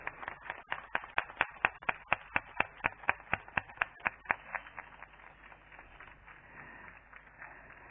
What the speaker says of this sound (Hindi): एक बार और जोरदार ताली बजनी चाहिए।